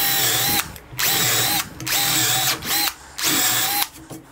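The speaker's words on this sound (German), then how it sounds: "Sprich, wir bohren vor und senken das." A power drill fitted with a countersink bit pre-drills and countersinks screw holes in wood for a garden chair, running in three loud bursts with brief pauses between, close and alone.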